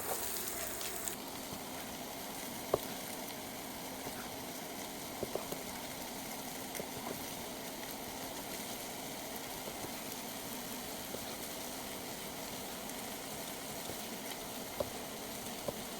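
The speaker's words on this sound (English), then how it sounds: "we're gonna start to get some color on the onions and the poblanos" Onions and poblano peppers in a few tablespoons of oil at about 325 degrees give a quiet, continuous sizzle with faint crackles and occasional small pops, heard without talking.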